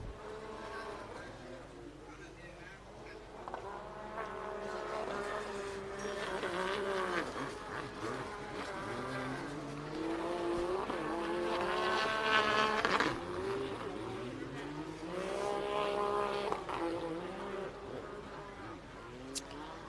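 Pro Runabout 1100 Open personal watercraft racing, several engines whining and revving at varying pitch, rising and falling as they pass, steady and moderately loud with a race commentator talking over them.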